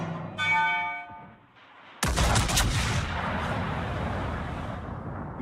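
Naval gunfire in World of Warships, a sharp loud blast that cuts in after a brief ringing tone, followed by a rumbling roar of continuing shell fire and explosions that sustains to the end.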